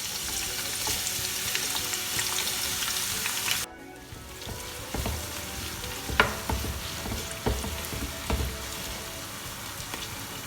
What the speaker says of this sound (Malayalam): കുറച്ച് സവാള ഇട്ടിട്ട് അങ്ങനെ ബാച്ചായിട്ട് അങ്ങനെ വറുത്തെടുക്കാം